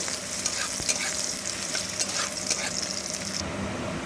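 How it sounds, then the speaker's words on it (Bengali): Chopped garlic and onion frying in hot oil while being stirred, a steady close sizzle with scattered soft scrapes and clicks of the utensil against the pan, heard alone without voices. "ওই তেলের মধ্যে দিয়ে দিলাম রসুন কুচি সাথে দিয়ে দিলাম পেঁয়াজ কুচি দিয়ে একটু ভালো করে নাড়াচাড়া করে একটু কষিয়ে নেব"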